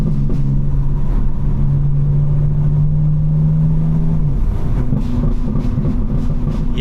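BMW M4 with exhaust tuned for maximum burbles, rumbling low and steady from inside the car with a droning tone that shifts partway through, no voices.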